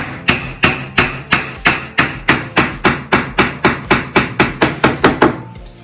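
A hammer strikes wood about fifteen times in a steady, rapid rhythm, each blow sharp and close, while making a walnut furniture front.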